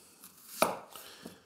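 A knife chops through a red onion on a cutting board, one sharp close cut followed by a couple of fainter taps, with nothing else heard.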